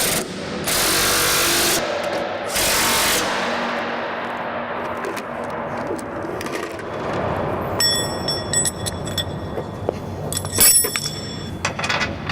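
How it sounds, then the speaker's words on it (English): Bolts on a bin paddle sweep are snugged up with a loud power tool, long harsh bursts at first, then quieter mechanical rattling and metallic clinks close by. "Snug up the bolts."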